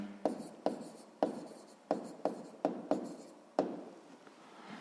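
A pen writes on paper while noting down a math word problem, making a quick series of about eight scratchy strokes in an uneven rhythm, close and quiet with no talk.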